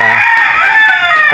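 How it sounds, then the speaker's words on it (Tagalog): A rooster crows loudly and close at a flooded rural farmyard after a typhoon, one long sustained harmonic call, with cooped chickens clucking faintly under it. "Yung mga manok ko guys"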